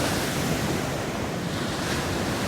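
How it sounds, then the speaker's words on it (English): Ocean surf rolls onto a beach, a continuous broadband wash of breaking waves blended with steady wind rumble and no voices. "Waves in the water,"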